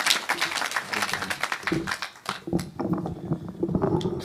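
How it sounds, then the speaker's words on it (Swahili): Applause rises for a senator at a Kenyan burial ceremony, a dense burst of crowd clapping that dips briefly and then resumes, with some voices mixed in. "Makofi ya Mheshimiwa Senator"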